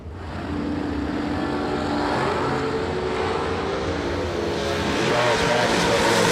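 Drag racing dragsters, including a 520 dragster, launching at the start of an ACE bracket race, a loud continuous engine roar that swells steadily, with a voice talking faintly underneath.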